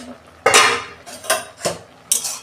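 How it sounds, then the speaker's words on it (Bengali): A metal lid is lifted off a pot of simmering potatoes for green chilli sauce in a home kitchen, giving several sharp clanks and scrapes of metal on metal with short pauses between them and no talk. "দেখুন বন্ধুরা, ঢাকনা খুলছি"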